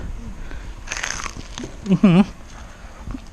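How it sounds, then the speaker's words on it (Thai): A homemade KFC-style crispy fried chicken drumstick gives one crunchy bite about a second in, followed by a short voiced exclamation, all over low room noise. "เดี๋ยวกัดให้ฟังเสียงเลยเนี่ย มา ไม่รู้ว่ากรอบแค่ไหน กัดให้ฟังเสียงเลย"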